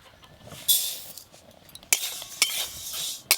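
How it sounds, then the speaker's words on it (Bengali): A spoon stirs sona mung dal in a kadai over a clay stove, giving several sharp scraping strokes with quieter rustling between them and no speech. "এই যে মুগের ডালটা কড়াই একটু নেড়ে নেব।"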